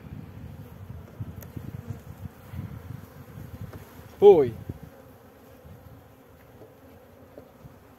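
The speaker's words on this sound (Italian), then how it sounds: "è ben coperta di api." Honey bees swarm over a brood frame from an Italian beehive, giving a steady low buzzing drone with one brief louder burst close by, sounding throughout the clip.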